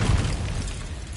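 A Confringo spell blast in Hogwarts Legacy bursts with a loud, close boom, then a rough, rumbling explosion tail that fades slowly over a second, with no voices.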